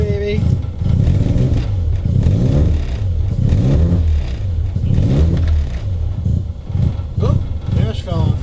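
A 1988 Mazda RX-7 FC3S rotary engine runs after an ignition repair with a Haltech controller. It revs and idles loudly and close, with uneven rising and falling pulses, clatter, and a voice speaking over it.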